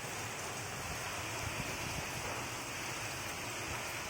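Heavy rain pours down amid strong wind, a dense, steady hiss of water with no break, close and fairly loud, with no voices.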